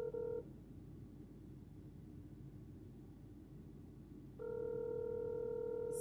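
Outgoing phone call ringback tone, two steady electronic rings separated by a long silent gap, clear and close over faint background hum with no talking.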